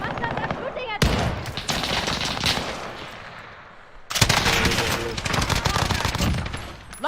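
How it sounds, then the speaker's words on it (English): Bursts of automatic gunfire in the battle royale game Call of Duty: Warzone, loud and dense, with a roaring volley that cuts off near the one-second mark and another heavy stretch from about four seconds on, mixed with game sound. "They're shooting at me."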